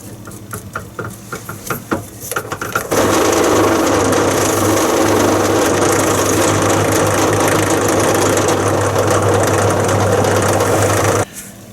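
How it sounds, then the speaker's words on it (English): A spindle drill spins a grey polishing mop against a bushcraft knife handle, a steady loud motor hum with broadband buffing hiss running continuously for several seconds after some lighter handling noises, then stopping abruptly. "I'll polish the handle up properly on the spindle drill"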